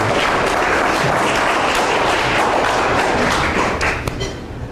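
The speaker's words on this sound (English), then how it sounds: "So let's applaud for him." An audience at an indoor science cafe talk applauds steadily for a guest speaker, a dense, even wash of clapping from many hands that holds throughout and begins to thin out near the end.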